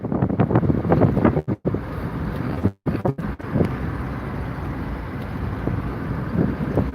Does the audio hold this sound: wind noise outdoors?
yes